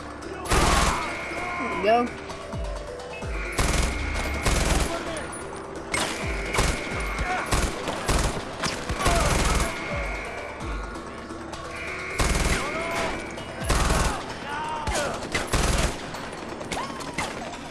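Rapid bursts of gunfire from a gun in the video game Far Cry 4, loud and close, with repeated volleys and short pauses between them and someone talking over the shooting.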